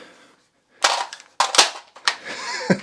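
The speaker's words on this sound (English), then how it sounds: "this is a dry fire reload on this AR pistol" Dry-fire magazine reload on an AR pistol fitted with a fixed-magazine upgrade, heard as a quick series of close metallic clicks and clacks of the magazine and action, sharp and loud against near silence.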